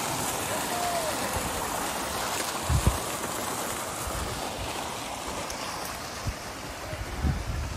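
Steady rushing water from a clear-water fountain in Antalya, Turkey, continuous broadband splashing with a few low thumps, heard outdoors.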